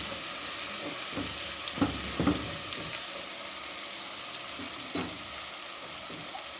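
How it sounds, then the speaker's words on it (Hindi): Ground spices with salt and turmeric sizzle steadily in a pan, a constant close frying hiss broken by a few soft scrapes and stirs, with no talking. "इसको हम फ्राई कर लें।"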